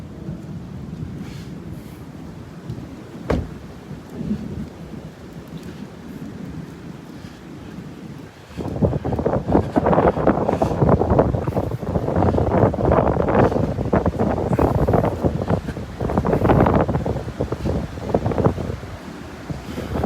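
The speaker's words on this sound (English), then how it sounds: "it's really windy out, so there's going to be a lot of wind noise" Strong gusts on a Florida beach during a passing rain band batter the microphone, with rumbling buffeting that grows heavier and rougher about halfway through over a background of surf.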